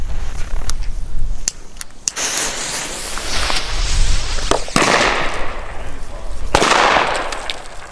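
KATAN Hirten D and Super 2 Charge Chinese firecrackers from 2020 explode outdoors in several sharp, loud bangs, with bursts of crackling and a noisy rush between the blasts.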